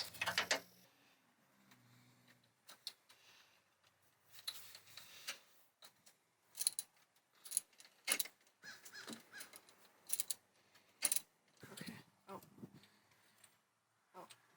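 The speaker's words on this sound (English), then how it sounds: "Now go ahead and loosen this bolt until the pulley's all the way off." A wrench works the pulley bolt loose on a 1993 Toyota Corolla during a V-belt replacement, giving scattered close metallic clicks and ticks in irregular bursts, with voices and movement in between.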